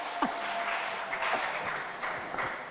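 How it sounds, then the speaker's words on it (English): Audience applause ringing out steadily across a live-streamed event, a dense, moderately distant patter of many hands clapping together with no clear pauses. "Those are the hand claps you give for chocolate."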